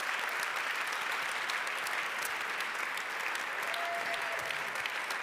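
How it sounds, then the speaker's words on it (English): Steady applause from an audience at an award ceremony and evening reception honoring the teams, even and sustained throughout with a faint tonal whistle partway through. "I really want you to give a big round of applause for the teams again."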